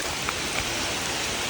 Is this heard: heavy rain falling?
yes